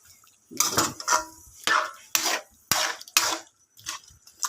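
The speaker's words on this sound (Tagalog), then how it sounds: "Kumbaga sa Ilocano, ikirog-kirog natin guys." A spoon stirs beef pinapaitan in a metal pot, making repeated close, irregular scraping clanks and knocks with short pauses between strokes.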